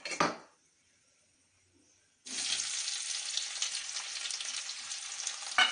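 Onions go into hot oil already holding chilli and bay leaf for a vegetable mutton dal; a brief clatter and near-silence give way to a sudden, loud, continuous sizzle that fries on steadily close by.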